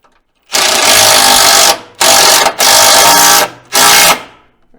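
Power tool tightening countersunk bolts on a heavy-duty rear skid plate of a Kawasaki KRX 1000, four loud close bursts of whirring, the first long, then three shorter runs separated by brief pauses.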